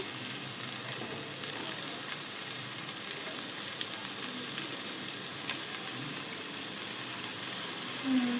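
Drumsticks sizzle in a hot pan of oil. The frying hiss is soft and steady and runs unbroken throughout, with a slight swell at the very end.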